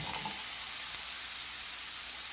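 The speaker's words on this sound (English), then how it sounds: "So let's go ahead and get those onions into the pan." Onions and ginger hit a hot pan and sizzle in a steady, bright hiss that stays loud and even throughout, close up, with no talking.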